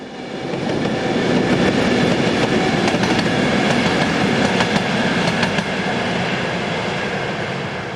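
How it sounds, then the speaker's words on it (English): A Class 51 diesel locomotive on Belgian freight duty rolls past loud and close, a steady roar of engine and wheels with faint rhythmic clicking of the rails throughout. "Class 51 diesels are now being phased out after 40 years of service."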